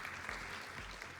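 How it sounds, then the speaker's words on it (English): Applause from an audience at an AI startup pitch event, a steady wash of many hands clapping close by, brief and continuous with no pauses. "let's give a round of applause to them."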